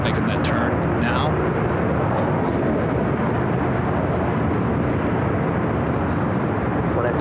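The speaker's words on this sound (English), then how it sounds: "The Asiana A380 Superflight 204 making that turn now." Asiana Airbus A380 airliner turning on the ground at LAX, a steady broad roar of jet engines throughout, loud and continuous, with faint voices in the background.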